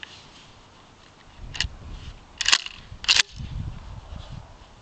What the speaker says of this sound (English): Firing the first round.